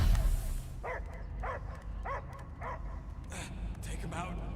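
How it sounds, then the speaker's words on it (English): Dog barking in a film scene, a series of about six evenly spaced barks and yips heard close over a dense, rumbling soundtrack. "I hear only barking."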